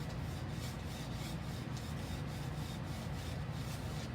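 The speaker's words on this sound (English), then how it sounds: "turn my brush on its side and just kind of rub it in" A paintbrush turned on its side dry-brushes Dixie Belle paint onto a background, giving a steady, continuous bristly rubbing scratch that stays even and close without pauses or speech.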